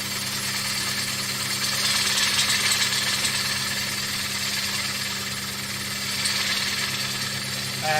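A lathe turns a large wooden platter, with a steady mid-level mechanical drone and a continuous tonal hum from the running machine, no voices over it.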